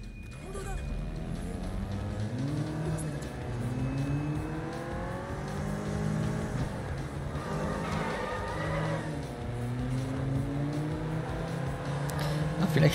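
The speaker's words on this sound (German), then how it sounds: "Der steigt ins Auto rein und wir müssen ihn verfolgen." A car engine in the video game Sleeping Dogs revs and shifts during a car chase, its pitch climbing and falling repeatedly across the stretch. Steady game noise continues underneath.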